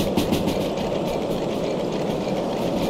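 A locomotive in the railway simulator game Derail Valley runs at speed, giving a steady loud engine drone with rhythmic clickety-clack of wheels on rail joints throughout.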